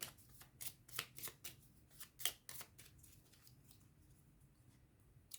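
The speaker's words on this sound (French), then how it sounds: "on va prendre deux cartes pour voir un petit peu les conseils que nous avons" Oracle cards being handled and drawn from a deck, with soft, close papery flicks and riffles in quick irregular bursts, then quieter, alone in a hushed room.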